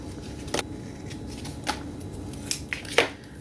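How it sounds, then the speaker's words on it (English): Glue-coated scissors trim excess paper from the edge of a tag made from packaging, giving a few sharp, separate snips spread over a few seconds, close by over a faint steady background hiss. "I want to go back and trim anything that is sticking off of the tag with my gluey scissors"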